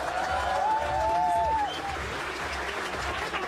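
An audience at a stand-up comedy show in a housing society claps and cheers, a sustained crowd wash of moderate loudness with a voice rising briefly over it early on.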